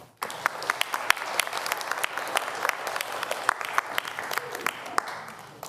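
A church congregation applauds during a Mass for the feast of Christ the King, a dense, steady burst of many hands clapping that fills the room for several seconds.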